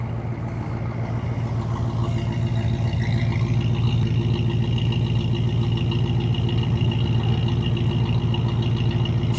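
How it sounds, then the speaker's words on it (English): A 1972 Chevrolet three-door Suburban with a 350 V8 idles steadily, its exhaust a continuous low rumble that stays even and close throughout with no voices over it. "Exhaust sounds nice and period correct."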